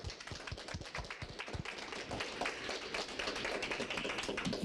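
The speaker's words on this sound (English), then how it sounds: "And I want to give them a round of applause to say thank you." An audience gives a round of applause at the close of a talk session on climate change and health equity, a faint, steady patter of many hands with sharper claps early on.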